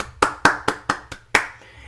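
Six sharp hand claps ring out in a quick, slightly uneven burst during a livestream, close and distinct with no talking.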